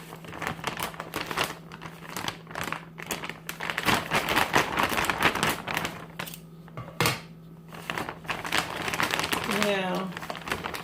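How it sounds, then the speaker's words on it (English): Crinkly plastic rustles and crackles continuously as a bag of potting soil is handled and opened, with some faint scraping and a brief rising squeak near the end. "I'm gonna open it up first. I got some scissors here, and I'm going to open this bag."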